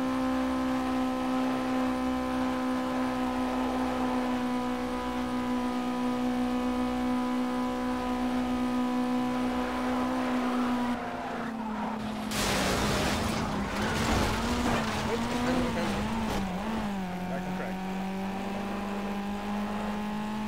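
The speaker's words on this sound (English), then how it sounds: "I'm redlining the engine. I'll be on the red for a mile." A slow car's engine held at redline in the racing game Project CARS, a steady, loud high-pitched drone that briefly breaks up and shifts mid-way before settling back to a constant whine.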